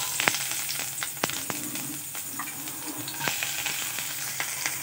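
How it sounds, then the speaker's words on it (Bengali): Chopped garlic frying in hot oil in a frying pan, a soft continuous sizzle broken by sharp crackles and a few stirring clatters, fairly quiet and close. "আমরা ফ্রাইং প্যানে তেল গরম করে তাতে রসুন কুচি দিয়ে দেবো।"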